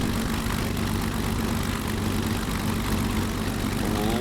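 A Messerschmitt Bf109 G-6 with its DB605 engine, simulated in Microsoft Flight Simulator 2020, runs steadily just after starting, giving a loud continuous propeller drone with a low throbbing idle.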